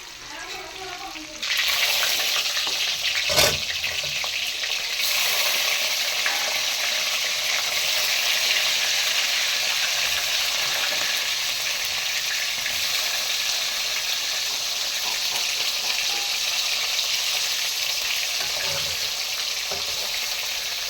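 Stuffed bitter gourds (karela) fry in hot oil in a kadai, giving a steady, close sizzle that starts abruptly and holds evenly throughout.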